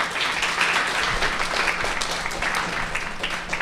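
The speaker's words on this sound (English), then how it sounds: "A round of applause for Emma." Audience applause for Emma at a talk on how young people use digital technology, a dense, even clapping from a roomful of people that holds steady throughout.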